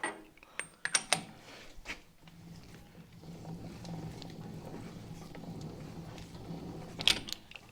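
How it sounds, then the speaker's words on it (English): A permanent magnet electric motor in a converted Jeep drives the transmission in first gear, a low steady mechanical whir with faint gear chatter, preceded by a few clicks and knocks, quiet and close. "This is a permanent magnet motor. Let's go first gear."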